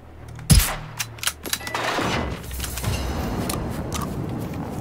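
Gunfire in the video game Generation Zero: a few sharp rifle shots crack in quick succession early on, then a low rumbling ambience carries on underneath.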